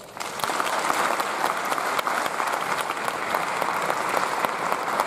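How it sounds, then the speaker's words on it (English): Sustained applause from a concert audience at Kleinhans, a dense steady clatter of many hands clapping throughout. "please give a, well, warm, a warm round of applause to Morgan Chalmers."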